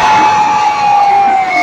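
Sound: live concert crowd cheering and shouting

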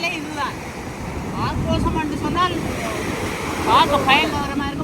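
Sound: sea waves crashing on the shore

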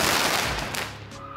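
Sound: fireworks

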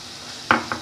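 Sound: mixing powdered milk into halwa in a pan

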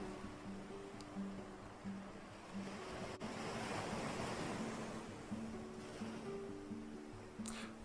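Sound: sea waves washing ashore

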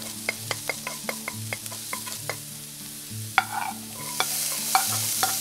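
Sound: stir-frying vegetables with mushrooms in a pan

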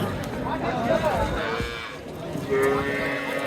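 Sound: cattle mooing at a livestock market

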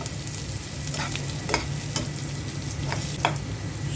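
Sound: vegetables frying with dried chillies in a pan

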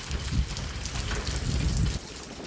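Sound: rain falling by the ferries

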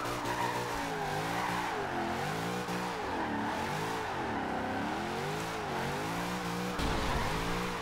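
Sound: Toyota AE86 drifting, tires skidding, in video game Forza Horizon 2

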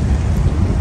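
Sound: rain falling outdoors while picking black mushrooms

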